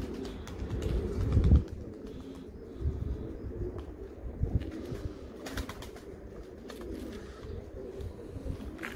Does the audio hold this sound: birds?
yes